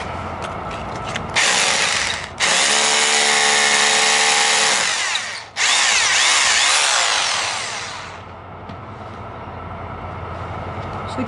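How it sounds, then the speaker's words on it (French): Power drill boring into a wall to seat an anchor, loud and close, running in two long bursts separated by brief pauses, then winding down into quieter background noise. "Donc il faut encore percer un petit peu."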